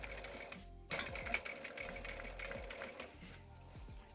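A sewing machine stitches fabric in a short, quiet burst of rapid rattling needle clatter that runs continuously for a few seconds, with no speech.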